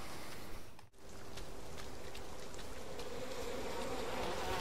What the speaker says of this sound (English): Oh, ow, ow, bloody bees. Wasps, ah, crap.